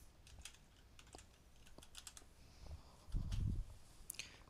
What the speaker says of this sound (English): Go on keyboard here.